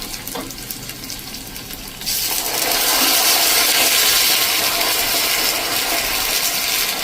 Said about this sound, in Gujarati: એમાં 1/4 કપ જેવું આપણે પાણી નાખી દેશું